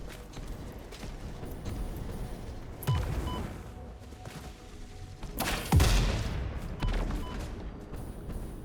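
Gunfire in the video game Satisfactory, a few sharp bursts and thuds rising out of a steady noisy background, spaced several seconds apart.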